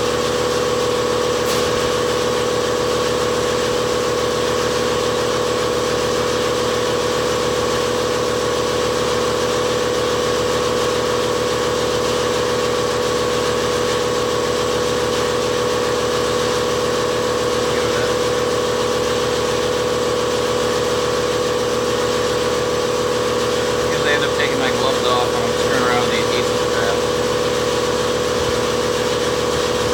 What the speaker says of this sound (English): we'll find out how long it takes for my air compressor to make 150 psi